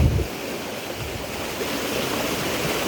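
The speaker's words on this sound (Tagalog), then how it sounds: "galing po yung tubig doon sa itaas, bumubulusok po papunta dyan sa bato na yan" Water of Banakon Falls pours from above and crashes onto a concreted rock below, a steady, loud broadband rush that fills the whole stretch with a brief heavier burst at the start.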